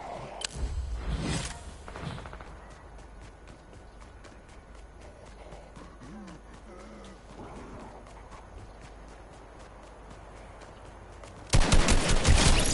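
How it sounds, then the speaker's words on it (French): Rapid automatic gunfire in a zombie shooter video game, long bursts of dense crackling shots running for several seconds, then a louder close volley at the end, with a few short vocal sounds early on. "Ça tire encore."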